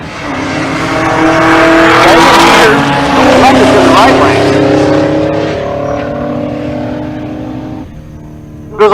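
A BMW drag racing car launches down the left lane at a drag race event in Pueblo, Colorado, its engine roaring loud and close as it revs and accelerates, while an announcer talks over it.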